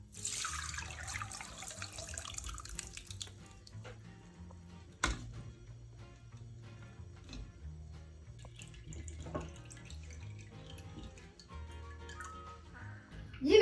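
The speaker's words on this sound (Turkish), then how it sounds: "bademde olduğu gibi süzgeç yardımıyla e, sıvısını çıkartıyoruz" Homemade almond and oat milk is strained through a kitchen strainer, giving a steady, faint trickle and patter of liquid with occasional soft drips and clinks, heard close and without talk.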